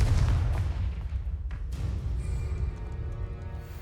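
Confringo, the explosive spell in the Hogwarts Legacy video game, goes off as a heavy deep boom followed by a rumbling decay and crackling debris, loud and close, with no talking.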